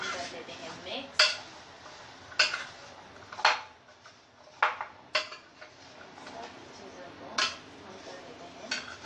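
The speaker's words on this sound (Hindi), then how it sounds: "पहले हम इसमें डालते हैं ब्लैक पेपर यानी काली मिर्च का पाउडर, काला नमक और हमारा ये चाट मसाला और फिर इन सब चीज़ों को हम कर लेते हैं मिक्स।" Fruit chaat being mixed in a bowl with black pepper, black salt and chaat masala: repeated sharp clinks of a spoon against the dish, spaced irregularly over a soft scraping stir, close and clear with no talk.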